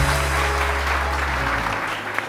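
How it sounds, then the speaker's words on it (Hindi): Steady applause from a television morning show studio audience, fairly close and even, with a low hum underneath that drops away near the end. "फरा के लिए बहुत सारी तालियां जी"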